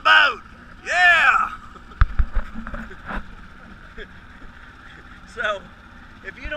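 Boat motor droning on open water, with whooping shouts and voices over it and a sharp knock partway through.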